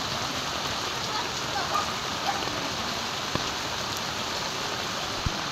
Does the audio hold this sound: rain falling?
yes